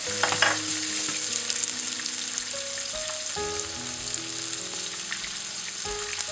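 Lemongrass hitting hot oil while tilapia deep-fries, a loud steady sizzle and crackle filling the whole stretch, with a few sharper spatters near the start and no talking.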